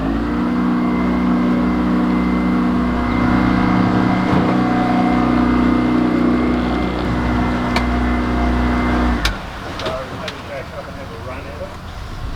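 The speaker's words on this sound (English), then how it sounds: "We've got both engines fairly well flat out." Both engines of a sailing boat run at near full throttle, a loud steady drone with a constant low hum that drops off abruptly near the end as the boat struggles off the mud.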